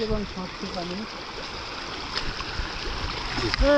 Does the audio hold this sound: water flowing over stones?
yes